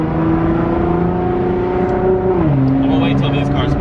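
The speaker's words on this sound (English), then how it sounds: "Wait till these cars pass." A steady, loud engine drone from nearby traffic whose pitch drops partway through as a vehicle goes by, with faint talk under it.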